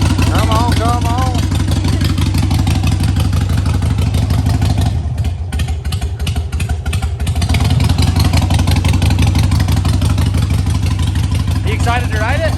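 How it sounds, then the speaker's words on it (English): A motorcycle engine runs loudly and steadily close by, its low rumble and clatter dipping briefly before picking back up, with people talking over it. "This bike runs really good and it's ready to be ridden"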